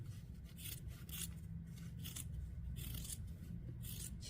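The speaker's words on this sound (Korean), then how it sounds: "시접 부분 잘라내주고" Fabric scissors trim the seam allowance on a small crossbody phone bag, making a steady, rhythmic series of close snips and rasps with no talking.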